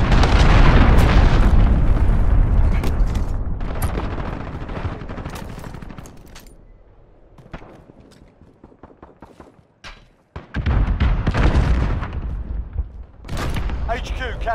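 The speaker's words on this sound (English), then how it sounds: "Enemy cruise missile incoming." Call of Duty Modern Warfare multiplayer match with loud explosions and gunfire: booming blasts and rattling shots dominate the opening seconds, quieten, then return in a second burst near the end, with game voice callouts mixed in.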